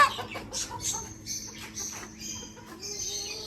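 Cochin hen clucking softly in a run of short, faint calls close by, with light chirps from other birds in the background and no speech.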